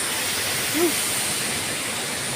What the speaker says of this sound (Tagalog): Ito yung Pulang Batong Falls dito sa Valencia.